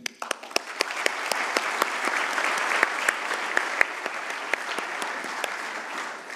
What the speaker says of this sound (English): I'd like a little applause for him.